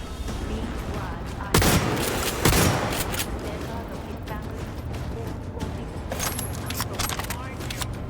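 Gunfire in the video game Cyberpunk 2077, two loud sharp shots early on, then scattered fainter cracks and clatter, with people talking throughout.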